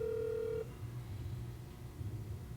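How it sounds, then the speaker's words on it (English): A telephone rings in a boxing-show studio: a single steady electronic tone that cuts off abruptly, leaving low background hum. "Gotta get to see me answer the phone."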